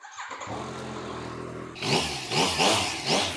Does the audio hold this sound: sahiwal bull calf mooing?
no